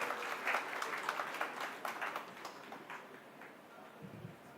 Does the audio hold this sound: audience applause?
yes